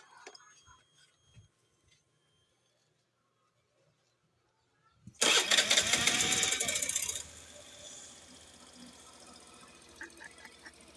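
A Suzuki Avenis scooter cranks after a quiet pause with some faint handling noises, catches with a loud burst of revving, then settles into a softer steady idle, heard up close.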